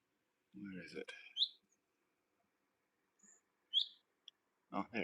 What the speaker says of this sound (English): There's a very loud bird somewhere.